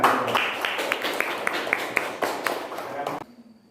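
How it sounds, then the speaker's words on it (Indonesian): Classroom audience claps for a presenting student group during a teaching session, a loose burst of individual hand claps with some voices underneath, stopping abruptly near the end. "Tepuk tangan untuk kelompok 2."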